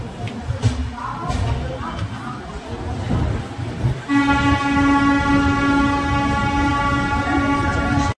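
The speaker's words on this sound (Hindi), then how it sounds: "फाइनली भाई लोग हमारी ट्रेन आ चुकी है और लग गई है" A train pulls into a platform at New Delhi railway station with a low rumble, then sounds loud, sustained horn blasts, while people talk nearby on the busy platform.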